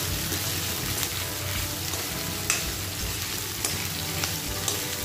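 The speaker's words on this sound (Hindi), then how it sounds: "थोड़ी देर पकाएंगे इसको, इसी प्रकार चलाते हुए 1 मिनट पका लेना है।" Green chillies fry in a pan for dahi mirchi, a dense, steady hiss of sizzling oil filling the whole stretch, with a few faint clicks of stirring breaking through, close up and continuous.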